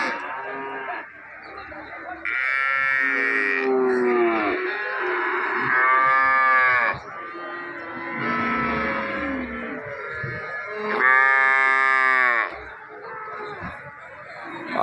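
Cattle at a livestock market in Erode, repeated drawn-out moos from several animals, loud and close, with chickens faintly in the background and people talking nearby.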